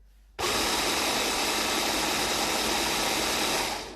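An electric mixer starts abruptly and runs at a steady loud whir, whipping ice cream, sugar and cream into a strawberry milkshake, then winds down slightly at the end.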